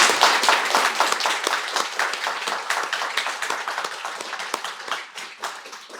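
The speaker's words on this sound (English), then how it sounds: "And I think it's just a round of applause for everybody," Audience applause at a community strategy launch event, a fairly small crowd clapping in distinct individual claps that stay steady and then gradually thin out.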